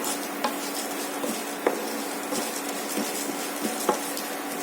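Ingredients for lentil spice powder (pappula podi) dry-frying in a pan, a soft even hiss broken by scattered light scrapes and clinks of a utensil stirring against the pan.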